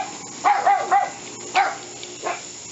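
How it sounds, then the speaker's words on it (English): Dogs barking outdoors, several sharp barks and yips in quick bursts at moderate distance, with a short pause between groups. "There's dogs barking at me."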